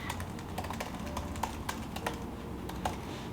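Computer keyboard typed with a quick, irregular run of close, distinct key taps, some louder clicks standing out, and no talking.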